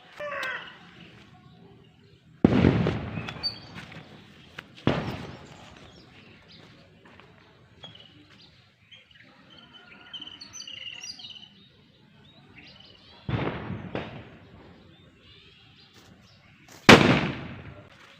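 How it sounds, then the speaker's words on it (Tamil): Four loud, sharp bangs of small sparrow (kuruvi) firecrackers at Diwali, spaced several seconds apart, with birds chirping faintly in the pauses between the blasts. "நம்ம குருவி வெடி வந்து வெடிச்சிருச்சு."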